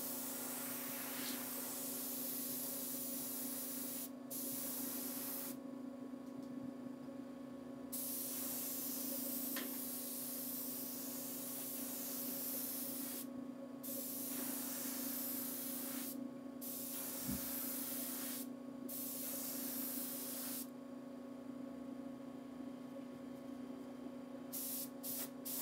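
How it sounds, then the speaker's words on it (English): Spray paint hissing from an aerosol can in repeated bursts, steady close hiss broken by several short pauses, with no talking. "you have to be kind of careful not to spray too much of it"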